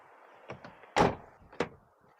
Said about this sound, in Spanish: Plazas traseras, una puerta que tiene buen ángulo de apertura.